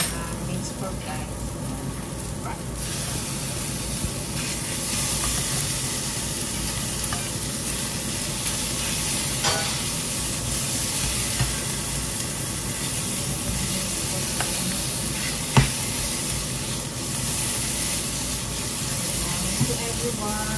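Minced pork frying in a pan with onion and garlic for a bitter gourd dish, a steady close sizzle and hiss running throughout with occasional stirring scrapes and clinks.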